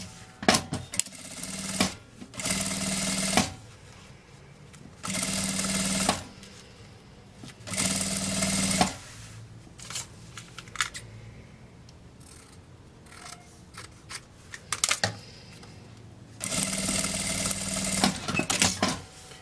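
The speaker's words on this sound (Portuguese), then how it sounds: "passa a costura aqui" A sewing machine stitches the lining of a child's mini backpack in several short whirring bursts separated by quieter pauses with small handling clicks, close and fairly soft.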